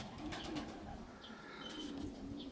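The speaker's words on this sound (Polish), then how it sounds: "Trzy gołębie już siedzą, czwarty, piąty w locie" Racing pigeons landing at the loft after a race flight, heard as soft, faint cooing and light chirps over steady outdoor background noise.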